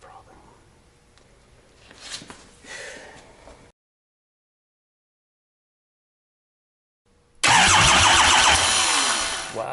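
Cummins 5.9 12-valve diesel on its first start after a rebuild, a loud engine roar bursting in after a stretch of silence and running steadily to the end, with faint mechanical noise and handling earlier.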